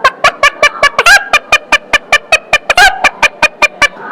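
A voice imitates a hen clucking at dawn: a rapid, evenly spaced run of about twenty short, sharp clucks, loud and close, with a couple of longer squawks mixed in.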